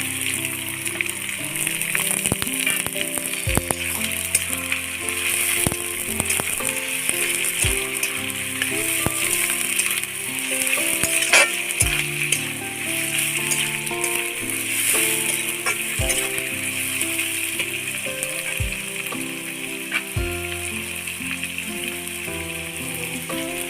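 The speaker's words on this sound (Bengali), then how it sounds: "গোটা মশলা দিয়ে দিচ্ছি। পেঁয়াজ কুচিটা দিয়ে দিচ্ছি।" Whole spices and chopped onions frying in a pan for Bengali chicken kosha give a steady, close sizzle. Scattered crackles and pops run through it, with no talking.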